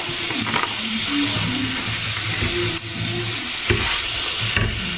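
Asian fried rice sizzles steadily in a pan while being stirred, a continuous frying hiss with scraping stir strokes recurring throughout, close and fairly loud, with no talking.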